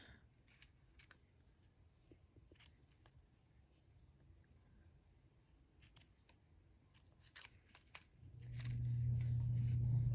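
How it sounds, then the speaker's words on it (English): Small red craft pieces being trimmed with scissors for a Christmas shaker tag, a run of quick, close snips and paper rustles at a quiet level, followed by a louder steady hum near the end. "so the small ones I kind of want to be around the same height as the regular red ones, so I will cut those"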